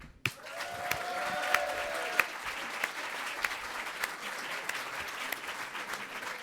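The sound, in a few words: audience applause for JFrog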